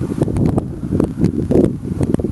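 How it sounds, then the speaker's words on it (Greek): Strong wind gusts buffet the microphone in an open goji berry field, a steady roaring rumble with rustling surges rising and falling throughout, no voices. "Ο αέρας έχει δυναμώσει, θα πρέπει να το σταματήσουμε εδώ αυτό το βίντεο"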